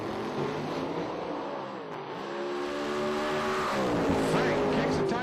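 Drag racing cars launch down the strip with a loud, sustained engine roar that rises in pitch as they accelerate away.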